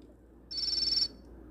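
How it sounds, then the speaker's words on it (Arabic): Electronic phone ringtone in a Toca Boca video game, one bright steady warble lasting about half a second, loud and clear over a faint background hum. "ثانية واحدة يا ولاد أنا جالي تليفون"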